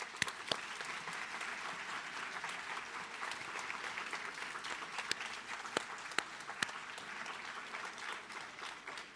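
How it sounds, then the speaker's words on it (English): Audience at a law school pro bono recognition ceremony applauding graduates' families, sustained even clapping with a few sharper individual claps standing out, no talk over it. "Graduates, would you join me in applauding your families who have made it possible for you to"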